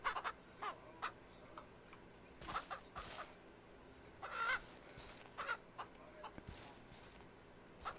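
Chickens clucking in the Ranch Sim video game, a hen house with scattered, fairly faint clucks and squawks at an irregular rhythm, with a few louder bursts.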